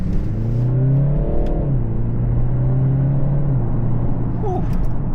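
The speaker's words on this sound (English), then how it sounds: "When you get on the pedal, you definitely can feel that the car has a much harder launch" A Stage 1 tuned BMW G20 330i engine accelerating in sport mode from inside the car, a steady loud rumble with rising and falling engine tones that climb through the gears.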